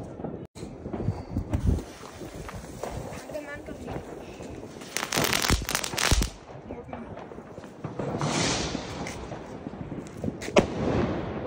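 Firecrackers bursting at a New Year's Eve celebration, a few sharp cracks and bangs scattered among crowd noise and nearby voices talking, some distant and some closer.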